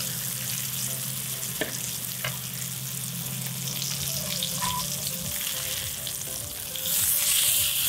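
Sheepshead fish fries in oil in a pan outdoors, a constant close hiss with faint spattering pops that swells louder toward the end, no voices over it.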